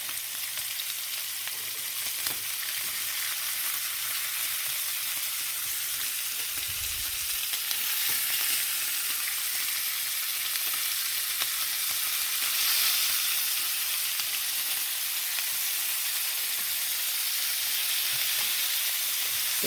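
Bacon-wrapped SPAM fingers fry in a pan with a steady, even sizzle and hiss that runs unbroken throughout, loud and close with no voices over it.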